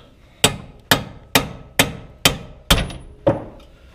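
During removal of a Mustang GT engine, a hammer taps a bolt seven times in a steady rhythm, each sharp metallic strike close and loud with a short ringing decay.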